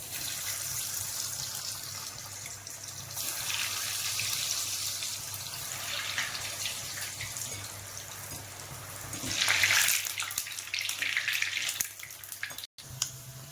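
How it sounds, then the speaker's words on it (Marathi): Cheese balls deep-frying one by one in hot oil, a steady soft sizzle throughout that swells louder near the end, with a low hum underneath. "आता आपण ही चीज तळून घेऊया तेल आपलं असं छान प्रकारे हे तापलेलं आहे आपण एक एक टाकून हे फ्राय करून घेऊया छान तळून घेऊया"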